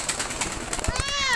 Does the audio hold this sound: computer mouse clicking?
no